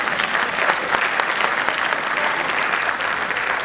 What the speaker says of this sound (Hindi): अगर सच में अपने हैं तो एक बार ताली बजा दीजिए